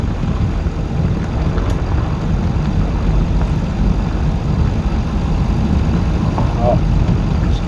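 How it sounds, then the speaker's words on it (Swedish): 1953 Riley RME car with its four-cylinder engine running steadily while driving, a constant low hum under someone talking in Swedish. "Och motorn spinner ju så gott."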